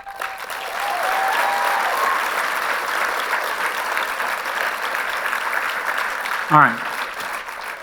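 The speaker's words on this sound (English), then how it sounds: "So please give a round of applause to my wife." Audience applause fills a gala hall, a sustained, even wash of clapping from a large crowd lasting several seconds, with a brief whistle near the end and a man's short remark over it.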